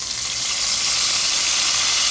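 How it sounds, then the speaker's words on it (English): Glaze mixture poured into a hot pan after cooking swordfish, a bright, steady sizzle that builds slightly and holds, close and continuous with no talking. "Hear the sizzle."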